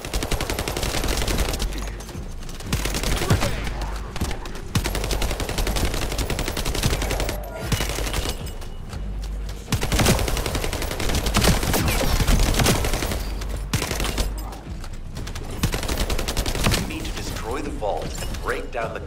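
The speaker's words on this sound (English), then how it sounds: "I like this submachine gun." A submachine gun in the video game The First Descendant fires in rapid, loud bursts, its chattering rattle broken by short pauses and mechanical clicks, with speech heard at times between the volleys.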